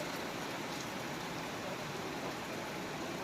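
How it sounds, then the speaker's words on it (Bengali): Steady rain falls in a dense, continuous hiss on a hot, humid monsoon day, with no voices and no breaks across the few seconds. "এদিকে বৃষ্টি।"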